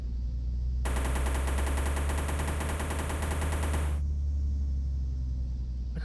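Rapid automatic gunfire from the RD Racing video game rattles out in one sustained burst of about three seconds over a constant low engine rumble, then stops while the rumble carries on.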